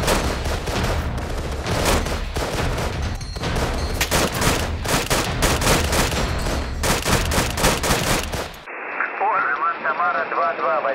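Sustained, dense gunfire from rifles and machine guns in the military shooter ARMA 3 during a Russian assault, loud and near for about eight seconds, then cutting abruptly to a quieter radio-like voice transmission.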